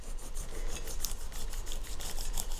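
Knife trimming the peel from the base of a pineapple to level it, a soft, close rasping scrape repeated in short strokes without any talking.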